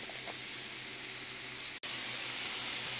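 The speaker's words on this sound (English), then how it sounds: "Here the potatoes and carrots are happily frying" Chicken, potatoes, carrots and sweet potato frying in a pan give a steady, even hiss and crackle like light rain, continuous and fairly close, with one brief dropout.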